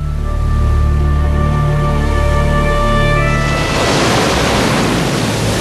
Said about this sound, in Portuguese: No inverno, os mares próximos aos polos são varridos por violentas tempestades.